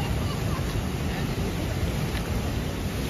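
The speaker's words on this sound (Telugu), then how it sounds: "ఈ కొండల మధ్యలో ఇలా తెప్పలతో వెళ్తుంటే చాలా ఆహ్లాదకరంగా ఉంది." A coracle ride on the river near Hogenakkal waterfalls gives a steady, dense wash of rushing water and wind buffeting the microphone, continuous and fairly loud throughout with no clear voices.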